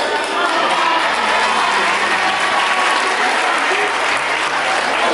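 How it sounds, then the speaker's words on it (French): Loud, sustained applause from a crowd after singing at a church retreat, a dense wash of clapping that continues steadily throughout, with a few voices faintly mixed in. "il y en a qui applaudissent comme ça là"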